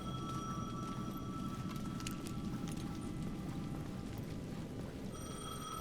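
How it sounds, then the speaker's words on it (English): A payphone in the video game Alan Wake 2 rings with thin, tonal trills over a dense, rumbling ambient bed, faint and steady throughout. "The payphone at the edge of the plaza was ringing again."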